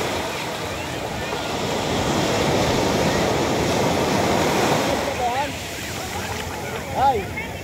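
Sea surf washes onto a beach in Batangas, a broad steady rush with wind buffeting the microphone, easing off toward the end as voices call out nearby.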